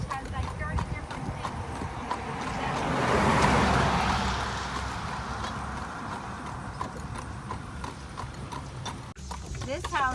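A horse pulling an Amish buggy at Bird-in-Hand, Pennsylvania, clip-clops in a steady rhythm of hooves on the road, close and clear, while passengers talk over it and a car passes at times.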